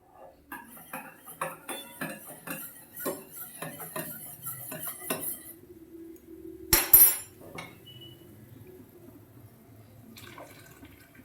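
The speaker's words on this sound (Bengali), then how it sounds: "জলের মধ্যে একটু খালি চালের গুঁড়ি দিয়ে একটু গুলিয়ে নেব" Rice flour being stirred into hot water in a bowl, with a spoon clinking and tapping against the bowl in a quick, irregular rhythm. A sharper knock comes near the middle and fainter clatter follows, close by with no talking.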